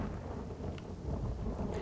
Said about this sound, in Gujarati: સમગ્ર જિલ્લામાં વાદળછાયું વાતાવરણ છે અને વીજળી થઈ રહી છે